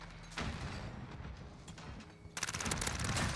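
Rapid automatic gunfire in a first-person shooter video game played on a controller, dense loud bursts that pause briefly and then resume harder near the end.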